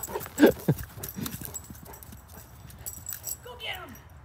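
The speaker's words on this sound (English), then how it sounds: "Okay, so, got a dog coming." A dog bounds closer outdoors, its quick footfalls and a brief whimper scattered under a person's calling voice, close and fairly loud in bursts.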